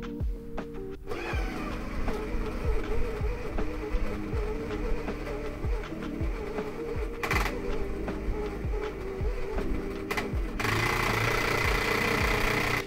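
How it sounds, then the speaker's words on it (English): A Sage coffee grinder grinding light roast with its clutch slipping, a steady motor hum broken by a rapid, regular series of ratcheting knocks, close and fairly loud, with no talking. "the clutch kicks in to stop the grinder from eating itself"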